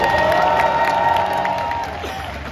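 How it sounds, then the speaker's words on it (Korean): Spectators at a baseball pitcher's retirement ceremony applaud and cheer together, a dense and loud mass of clapping with shouts scattered through it, gradually easing off by the end. "다시 한번 뜨거운 박수 부탁드리겠습니다"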